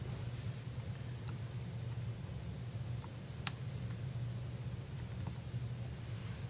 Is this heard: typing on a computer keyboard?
yes